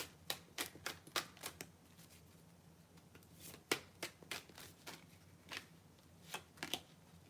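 Tarot cards are shuffled and drawn by hand at a reading, giving a string of quiet, crisp flicks and riffles in uneven bursts, close and soft, with no voices.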